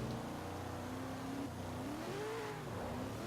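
A Subaru BRZ in a racing game accelerates from a 60 mph rolling start, its engine note climbing steadily in pitch, faint and continuous with a dip mid-pull before rising again.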